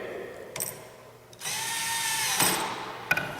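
A power drill whirs to drive a screw while installing a 240-volt Cadet ceiling heater, a short burst then a longer steady run, close and fairly quiet, with brief clicks.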